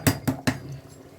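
Three quick metallic clanks of a lid being set and closed on a pressure cooker pot holding rice and chicken, close and distinct, evenly spaced within about half a second, then quiet.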